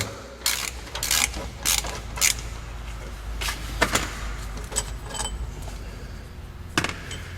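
Ratchet clicking in short bursts while a car starter bolt is loosened, close and fairly loud with pauses between pulls, plus a few metallic clanks.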